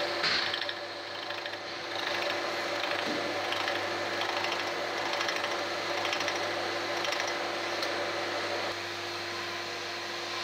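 A milling cutter bores into a Ford 1.6 cylinder block, running with runout as it slowly works deeper, a steady loud grinding whine with a faint chatter, continuous throughout.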